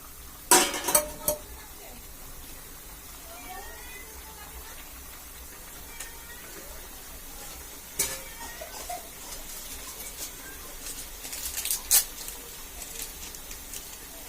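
Chicken being stirred in a cooking pan with a few scattered metallic clinks and scrapes of a utensil over a quiet background hiss, some sharper clatters near the start and toward the end.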